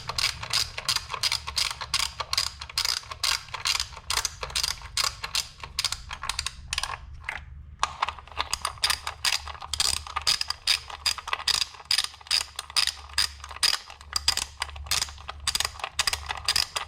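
Ratchet with an extension and 10mm socket tightening bolts on a Kia Optima 2.0L four-cylinder, rapid close clicking in repeated bursts with a brief pause midway.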